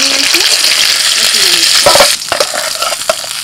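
Potatoes frying in hot oil with salt and turmeric in a home kitchen, a steady loud sizzle that thins out midway and gives way to scraping stirs and small pops.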